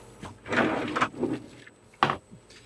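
A roller-bearing door on a trawler rolls along its track with a low rumbling slide, then shuts with a short thud; nearby and fairly quiet.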